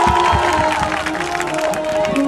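A student audience at a Bengali New Year 1417 celebration held by a university geography department in Rajshahi claps and cheers continuously in a loud, packed crowd, with voices mixed into the applause.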